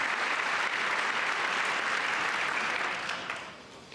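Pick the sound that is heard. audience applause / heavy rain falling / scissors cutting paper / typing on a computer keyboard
audience applause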